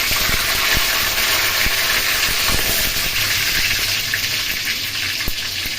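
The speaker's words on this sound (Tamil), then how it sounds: "இந்த கடுகு பொரிஞ்சிச்சு ஃப்ரெண்ட்ஸ்." Mustard seeds and curry leaves sputter and hiss in hot oil while a prawn curry is started, a dense steady sizzle with scattered sharp pops, close and fairly loud, with no talking.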